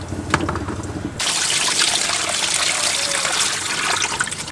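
Boiled Thai rice noodles (khanom jeen) are tipped into a colander, then water drains in a loud, close, continuous rushing splash that follows a quieter second of bubbling.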